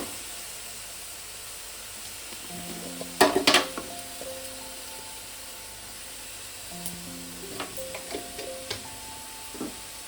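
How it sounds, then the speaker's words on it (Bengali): A carrot filling with chopped cashews, raisins and cardamom powder is stirred in a pan, giving a short burst of scraping and soft sizzling midway, with fainter stirring later over quiet background music. "এটাকে আমি আবারও মিনিট 2-3 ভালো করে নেড়ে পুরটা তৈরি করে নেব"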